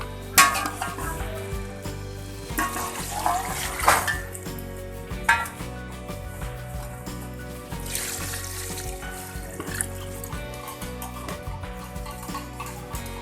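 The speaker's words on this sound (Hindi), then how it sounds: "अब इसमें हम पानी ऐड करेंगे।" Loud sizzling and bubbling as water is added to frying masala in a hot pan for pea and chicken biryani, with metal utensils clattering and scraping against cookware throughout.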